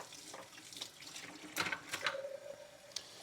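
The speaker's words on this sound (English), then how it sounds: "You see how I'm rinsing the knife." Tap water runs into a kitchen sink as dishes and a knife are rinsed by hand, a soft steady stream with brief splashes and clinks, fairly quiet and close, with no talking.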